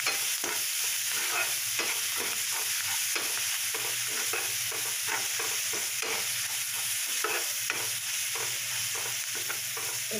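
Chopped chilli, onion and garlic fry in a pan with a continuous bright sizzle, broken by a regular series of scraping stirs from a spoon, close and steady throughout with no talking.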